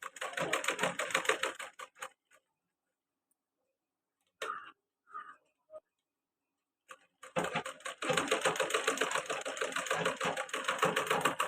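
A sewing machine stitches a baby balloon frock in quick rattling bursts, running for about two seconds, pausing, then starting again and running steadily near the end, with a few light clicks in the gap.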